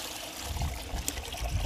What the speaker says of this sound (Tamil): நல்லா அலாசி எடுத்துக்குவோம்.